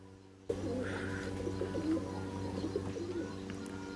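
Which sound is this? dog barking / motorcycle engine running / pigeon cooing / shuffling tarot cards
pigeon cooing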